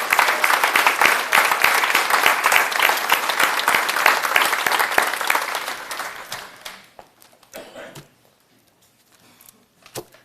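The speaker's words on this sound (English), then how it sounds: "give a special round of applause to Mr. Larry Finneret" Audience at a high school Hall of Fame ceremony applauds an honoree, dense sustained clapping that tapers off near the end to a few scattered claps and near silence.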